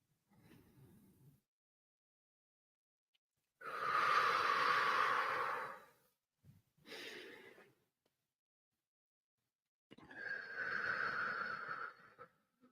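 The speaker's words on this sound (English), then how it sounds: "open to receive on the inhale and just exhaling" Slow, deep breaths during a guided movement and breathing practice: a long airy inhale, a short breath, then a long exhale, close and soft with silent pauses between.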